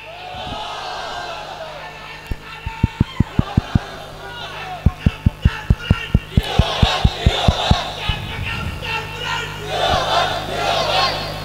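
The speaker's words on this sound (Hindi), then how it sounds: "कोई नारा तकबीर लगाने वाला नहीं है?" A large crowd at a religious gathering in Itehad Colony, Korangi, Karachi chants the Nara-e-Takbir slogan, with loud massed shouting over a run of sharp, evenly spaced beats in a reverberant open space.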